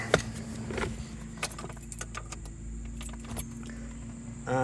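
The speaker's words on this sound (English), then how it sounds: "We're going to turn the ignition on." Ignition key jingling as it turns in a 1986 Jaguar XJS V12, with a sharp rattle of keys at the start, quiet soft clicks, then a steady electrical hum switching on near the end.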